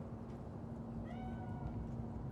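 A cat in Night City in Cyberpunk 2077 gives a short, faint meow, a thin rising-and-falling cry over a steady low hum of city ambience.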